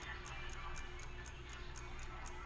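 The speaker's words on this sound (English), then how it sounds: "I can hear the clock on my wall." A wall clock ticks steadily at night, a soft, regular tick-tock repeating about twice a second over a low background hum, faint and close.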